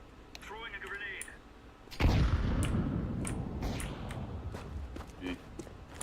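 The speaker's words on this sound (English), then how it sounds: "Throwing a grenade." A grenade goes off in a video game as a sudden loud boom followed by a long, dense rumbling roar that slowly fades, with a voice speaking before and during it.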